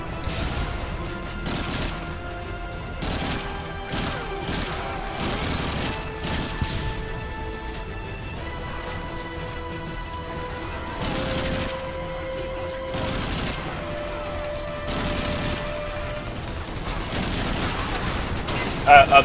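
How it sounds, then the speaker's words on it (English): Gunfire and explosions from the Modern Warfare 3 single-player campaign, including an exploding barrel, with repeated sharp bangs and crashes over a dense game soundscape. "You were killed by an exploding barrel."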